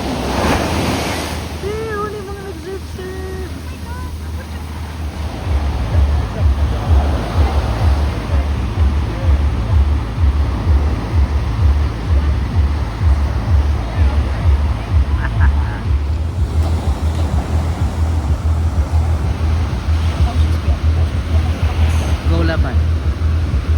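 Ocean waves breaking as surf at Ocean 9, Siargao, a loud steady wash with rhythmic pounding, heavy wind rumble on the microphone and people talking over it.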